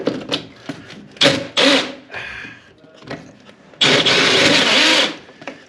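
A worn-out power drill spinning during washing machine pipework fitting, whirring in short uneven bursts with a longer sustained run near the end, close by amid clunks and handling noise.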